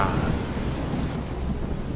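Steady heavy rain hisses throughout, with a deep rumble of thunder rolling underneath; no voices, just the storm close and loud.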